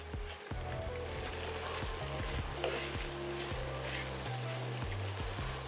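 Olives sauté in a pan with fried onion and garlic for a Christmas chicken salpicão, giving a steady close sizzle and crackle throughout, with faint clinks and scraping underneath.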